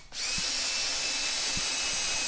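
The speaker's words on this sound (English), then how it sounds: "when I'm putting it together with pocket screws" A power drill drives pocket screws into wooden tabletop boards for a rustic farmhouse table, spinning up suddenly into a loud, close, steady high whine with a couple of faint dull knocks underneath.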